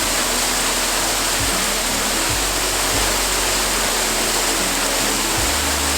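Waterfall pouring steadily in a glen beneath a high canyon wall, a loud, constant broadband rush that fills the scene alone, with no voices.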